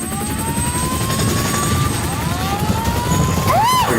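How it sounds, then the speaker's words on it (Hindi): A CH-47 Chinook heavy-lift helicopter starts its engines: a loud, steady turbine roar with whining tones that climb in pitch and swell near the end, heard close by and without talk. "जैसे ही ये स्टार्ट होगा मैम, आपको इसके अंदर बहुत ज्यादा नॉइज आता है और बहुत ज्यादा डाउनवॉश रहता है इस हेलीकॉप्टर का।"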